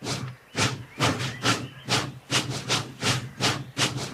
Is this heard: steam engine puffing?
yes